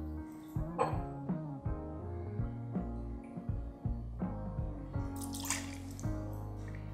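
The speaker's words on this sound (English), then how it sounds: "we're gonna pour 1 ounce of bourbon" One ounce of bourbon poured into a cocktail shaker while mixing a Paper Plane cocktail, a soft liquid trickle and drip heard under steady background music with no talking.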